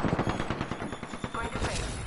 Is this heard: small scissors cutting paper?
no